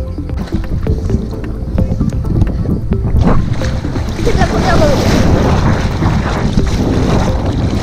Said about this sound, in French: Froide et il y a du vent.